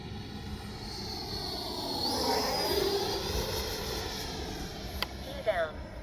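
A Freewing Avanti S 80mm electric ducted-fan RC jet flies past, its whooshing whine swelling and fading at a moderate distance, with a few brief knocks near the end.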